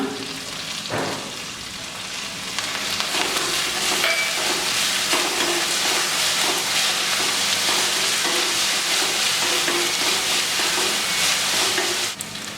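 Ginger garlic paste with coriander and mint leaves sizzling in a pan for Ambur mutton biryani, a steady close frying crackle with occasional stirring scrapes, no talking.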